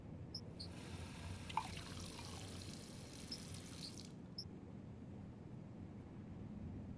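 Tap water is poured into a cup in the Heavy Rain video game, making a faint, thin hissing trickle that runs for about four seconds and then stops, with a few small clinks and drips.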